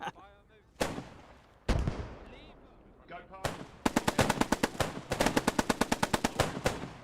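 Gunfire exchange in the World War II shooter game Post Scriptum: scattered single shots, then a rapid burst of automatic fire with many sharp cracks, fairly loud and close.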